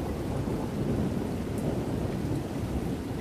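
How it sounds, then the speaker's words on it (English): Heavy rain shower with rumbling thunder, a dense, steady roar of falling water holding a constant level throughout, with a low rolling rumble underneath and no voices. "Presently, it began to rain, and the drops fell faster and faster till there were a heavy shower."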